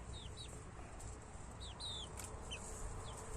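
Young chickens kept with older hens give short rising peeping and clucking calls in a few scattered bursts, moderately close, over a constant low ambient hum with no talking.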